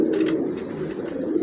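Pigeons coo at a pigeon sale, including an Andalusian female and a silver-colored hen. Soft, continuous throaty cooing runs through the short stretch, close by, with no talking.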